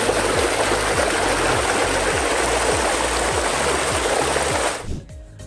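Warm water pours and churns steadily in the travertine pools of Pamukkale, a loud, close, continuous rushing flow that fades out at the end.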